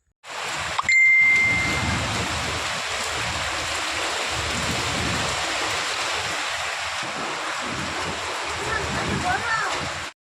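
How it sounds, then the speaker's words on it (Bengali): Storm wind and heavy rain make a loud, steady broadband roar that fills the whole stretch without a break, with one brief ringing ding near the start. "দেখলে কীরকম ঝড় হলো যেরকম ঝড় হয়েছে বৃষ্টি হয়েছে"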